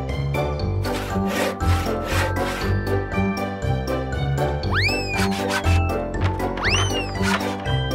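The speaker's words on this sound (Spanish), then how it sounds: "Serruchemos esas tablas de madera a la medida correcta." A saw cuts through wooden boards in a children's cartoon, its back-and-forth strokes rasping in a steady, brisk rhythm alongside bright musical tones and rising whistle-like sweeps.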